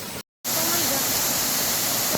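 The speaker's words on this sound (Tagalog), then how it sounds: "Dito pala yung falls." A rushing nature waterfall fills the clip with a steady, loud broadband roar after a brief silent gap at the start, and voices can be heard faintly over it.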